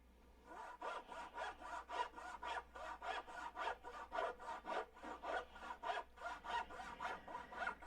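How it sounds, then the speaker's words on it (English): Hand sawing with a saw blade through what sounds like wood near roof sheeting, a steady run of about twelve rhythmic rasping strokes, close and fairly loud, with no talking. "sawing away."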